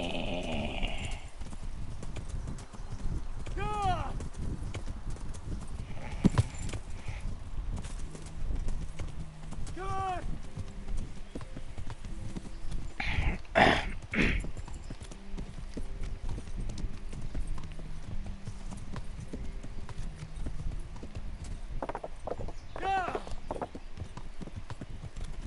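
Horse hooves clip-clop steadily in Kingdom Come: Deliverance, a medieval role-playing video game, the rhythmic footfalls continuing throughout under a few scattered whinnies and background game ambience.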